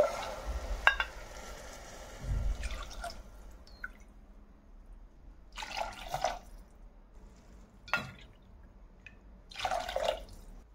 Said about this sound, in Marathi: इथे 4 वाटी पाणी टाकून घेणार आहोत आपण।